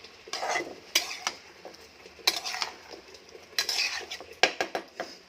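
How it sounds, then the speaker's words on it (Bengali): Drumsticks and prawns fry together in a pan as a spoon stirs them. Sharp scraping and clinking strokes come in uneven bursts over a soft, close sizzle. "এখন সজনা ডাঁটাগুলো আমি চিংড়ি সহিতে সঙ্গেই ভেজে নেব, ভিতরেই সেদ্ধ হয়ে যাবে।"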